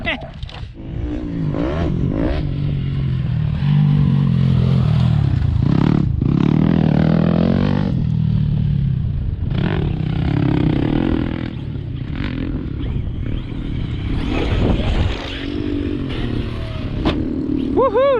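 A Traxxas RC truck, a Sledge or Maxx V2, runs fast with a whining electric motor, clattering and scraping over rough ground. It is loud and close for most of the stretch, with shifting pitch as it speeds up and slows.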